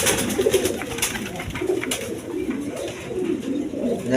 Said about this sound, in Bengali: এইখানে এক পের লাহোরি কবুতর আছে দেখেন